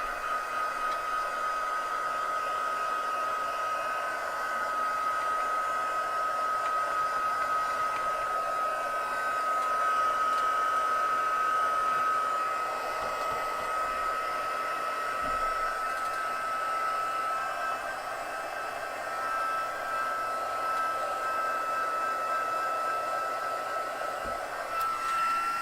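Heat tool blowing steadily to dry layered ink on stamped cardstock, a constant loud whirring hiss with a faint whine, running unbroken for the whole stretch with no speech.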